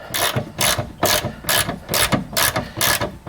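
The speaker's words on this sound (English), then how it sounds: "Take our 14mm socket, just get the threads going." Ratchet with a 14mm socket threading the rear end link nut on a Mazda 6, heard close and loud as a steady rhythm of quick back-and-forth clicking strokes with no talk.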